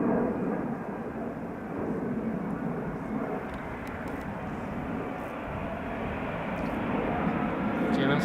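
An airliner arriving from Salt Lake City rolls in over Amsterdam Schiphol's Polderbaan runway with a steady broadband engine roar, loud and sustained throughout, while someone talks over it.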